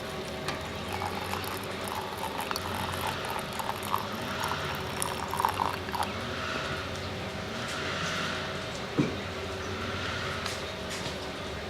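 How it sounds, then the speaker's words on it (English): Boiled water poured over herbs into a jar for a sore throat gargle, a steady close liquid rush and fill sound lasting throughout with a small knock near the end. "The water is boiled, and I let it set. And then we're just going to pour this in here. I'm going to fill it up."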